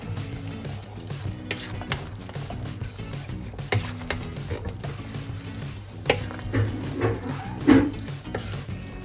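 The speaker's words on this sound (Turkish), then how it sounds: "Şimdi bir güzel karıştırıyorum." Peppers and tomatoes are stirred in oil in a pan for a home-canned menemen, giving irregular scraping clicks and soft rattles over a steady low hum, with louder strokes near the end.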